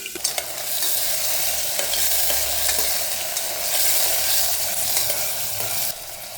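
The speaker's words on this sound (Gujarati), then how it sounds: "તેલ ગરમ થઈ ગયું છે। હવે એની અંદર નાખી દઈશ થોડી રાઈ, થોડી હિંગ ને હળદર। એની અંદર નાખી દઈશ ચોળા અને બટેટા।" Mustard seeds, black-eyed peas and potatoes sizzle loudly in hot oil in a cooker, a continuous frying hiss with a few stirring scrapes and no talking.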